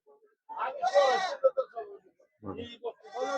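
Goats bleat at a livestock market, a few close wavering calls spread across a few seconds with brief quiet gaps between them.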